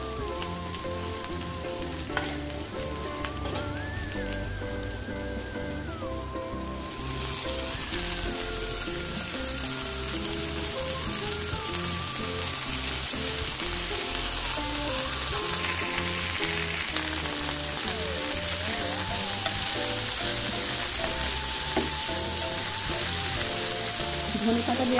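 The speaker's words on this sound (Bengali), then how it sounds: "সব কিছুই ভাজা ভাজা হয়ে এসেছে। এই পর্যায়ে আমি ধনেপাতা দিয়ে দেবো।" Coriander leaves are added to a pan of already-fried ingredients for Bangladeshi bhorta, giving a continuous close sizzle that grows louder partway through, all beneath background music.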